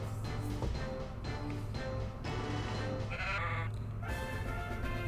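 Sheep Pokémon cry in the fan game Pokémon Uranium, a synthetic bleating call heard over steady game music, with a few short electronic tones mixed in.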